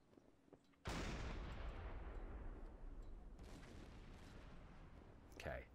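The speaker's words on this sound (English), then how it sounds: "More internal explosions." Internal explosions rumble through a torpedoed merchant ship in the Silent Hunter 5 naval game, a sudden loud blast followed by a long rolling roar and crackle that gradually fades, with a second burst near the end.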